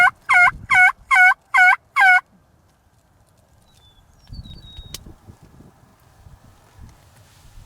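A wild turkey gobbles loudly and close by in a fast series of about five rattling calls, followed by quiet wind and faint rustling in open hills during a spring hunt.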